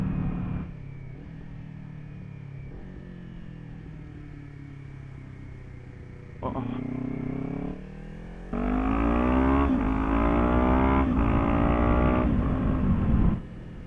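A 2026 Kawasaki Ninja 500 motorcycle riding along, engine droning steadily, then a brief rise in revs and a louder, sustained acceleration through shifting gears, close and continuous with no talking.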